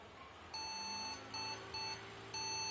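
A buzzer on an ASUS H61 motherboard under repair testing sounds four loud, high electronic beeps, the first long and the others shorter, with short gaps between them over faint background hum.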